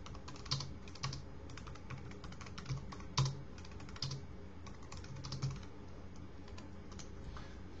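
Steady typing on a computer keyboard while writing Python code, a run of quiet, close key clicks with a few louder taps and no talking.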